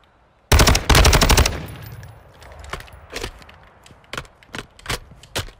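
Gunfire in the video game Warzone 2.0: a loud, close automatic burst of about a second, followed by scattered single shots and quieter impacts.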